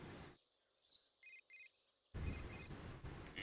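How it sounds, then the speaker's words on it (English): A cell phone in Persona 4 Golden rings in two short electronic bursts after a stretch of quiet, before rain and ambient noise swell back in. "Your cell phone is ringing."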